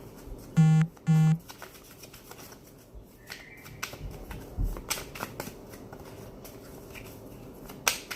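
Tarot cards shuffled by hand with soft, scattered riffling and tapping over several seconds after two short tonal bursts near the start; close and fairly quiet, with no speech.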